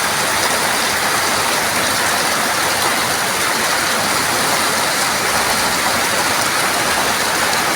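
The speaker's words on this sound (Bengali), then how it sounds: "ভালো বৃষ্টি জোরেই পড়ছে বৃষ্টিটা" Heavy afternoon rain falls hard and steady, a loud, dense, unbroken hiss with no pauses and no voices over it.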